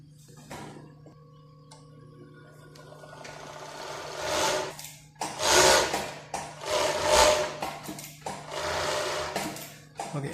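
A Jack K5+ industrial sewing machine, just repaired after a burnt-out power component, runs in close, loud bursts of rapid mechanical whirring, separated by brief pauses, with a faint steady hum underneath and no talking.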